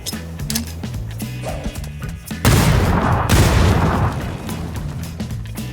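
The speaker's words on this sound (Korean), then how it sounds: "수류탄 던지며" A grenade blast in a shooter video game, with a sudden loud burst of rumbling explosion noise in the middle of scattered gunfire and game sound effects, close and prominent with no talking.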